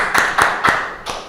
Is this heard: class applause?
yes